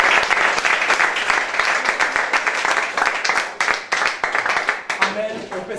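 A church congregation at a mourning ceremony bursts into loud, sustained applause, dense rapid clapping that carries on steadily before thinning slightly at the close.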